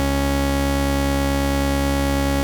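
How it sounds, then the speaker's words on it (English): A sustained saw wave chord from the Serum synthesizer holds steady and loud, buzzing and bright with dense harmonics, with no other sounds. "basic shapes, and we want a saw wave in this"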